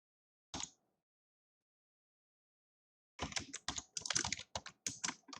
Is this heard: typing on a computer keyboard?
yes